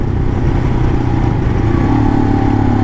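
Royal Enfield Himalayan 400 single-cylinder engine on the road in 4th gear with the throttle rolled off, a loud steady low drone with a slight pitch shift as it engine-brakes.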